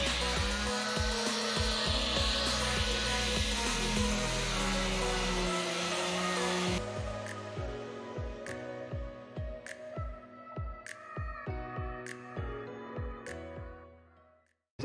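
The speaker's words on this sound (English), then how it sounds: "now I'm gonna just gonna sand down the bottom of the boat with my palm sander" A palm sander buzzes steadily against the bottom of a boat hull for about seven seconds, then stops, leaving a string of lighter knocks and scrapes.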